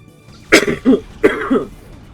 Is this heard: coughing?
yes